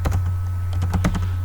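Quick keystrokes on a computer keyboard while Python code is entered, a short burst of close clicky taps over a steady low hum.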